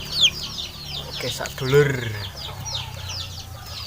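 Chickens clucking nearby, including a sick bird said to have a snoring, rattling respiratory condition, with a louder cluck midway; someone speaks briefly over the birds.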